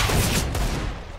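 Gunfire in the game CS:GO, a dense, loud burst of rapid shots that fills the whole short moment, with no voices.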